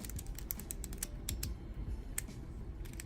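Large 11x11 speed cube being turned by hand, its layers snapping into place with rapid, irregular clicking that is close and fairly quiet.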